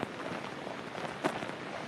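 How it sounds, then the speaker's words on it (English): Heavy rain from a hurricane Zeta rain band pours steadily in Pascagoula, Mississippi, a dense hiss with one brief louder gust-like burst midway. "And Felicia, you now are getting into some of those pretty intense rain bands."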